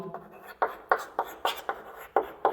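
Pen writing notes on paper in a chemistry lesson, a steady series of close, scratchy strokes at a brisk, regular rhythm, with no speech over them.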